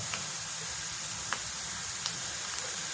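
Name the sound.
semolina and gram flour roasting in a pan on full gas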